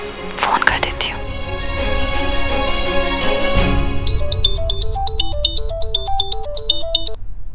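A phone ringtone plays a bright electronic melody in repeating phrases, loud and close, following a stretch of music with a whispered voice.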